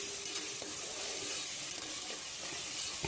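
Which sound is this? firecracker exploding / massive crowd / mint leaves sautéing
mint leaves sautéing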